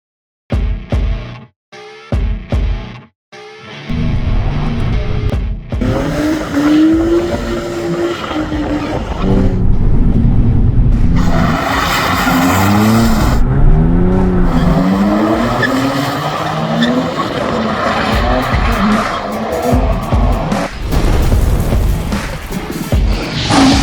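Jaguar S-Type drift car: a revving engine and loud, drawn-out tire squeal and skidding as the car slides, continuous and close after a few short opening bursts.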